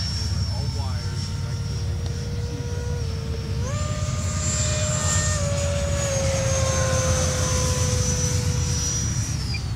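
A radio-controlled F-16 model jet, a Freewing or E-Flite electric ducted fan, whines loudly as it takes off, its pitch stepping up and then holding steady for several seconds under outdoor wind noise while someone talks.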